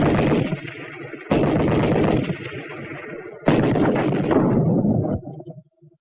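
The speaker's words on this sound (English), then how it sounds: "Watch what it can do to an enemy machine gun packed with plenty of sandbagging." Anti-tank rifle grenades detonating against a sandbagged enemy machine-gun position in a WW2 infantry weapons demonstration: three loud, booming blasts a second or two apart, each with a sharp onset and a long rumbling decay, no talking.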